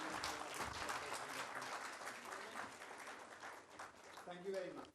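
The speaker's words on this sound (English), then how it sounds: "Ladies and gentlemen, a huge round of applause for this great session." Audience applause at an HR management summit after a conference session, a steady wash of clapping throughout with voices talking over it.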